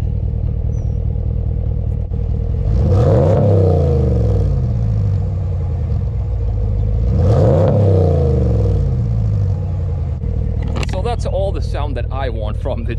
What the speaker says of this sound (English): So we can do some revving here.